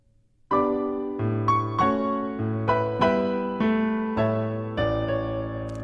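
Solo piano plays a short phrase from a theme, with steady chords and melody notes struck in an even, moderate rhythm, close and clear without any voices.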